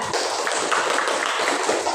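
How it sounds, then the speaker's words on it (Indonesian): A small audience claps in a classroom after a Quran recitation, a dense, continuous patter of hand claps close by with no talk over it. "tepuk tangan buat Anda"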